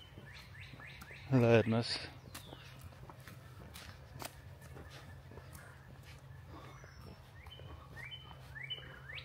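A bird calls in a park with tall trees, with faint chirps and tweets scattered through the clip over steady outdoor background noise, after a brief burst of nearby voices near the start.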